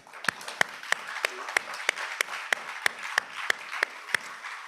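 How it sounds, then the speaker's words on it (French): A room of people at a general assembly claps in a steady, almost unison rhythm, with sharp claps roughly three per second and a soft background murmur underneath throughout. "une bonne motion de remerciement à Martin, une bonne main d'applaudissements."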